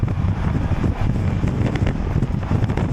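Strong wind buffets the microphone with continuous low rumbling gusts, loud and close, with no other sounds standing out.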